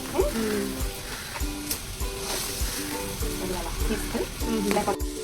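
Prawn pieces fry in hot oil in a home kitchen as a fish and prawn curry is made, a steady close sizzle with bubbling and scraping stirs, while someone talks throughout.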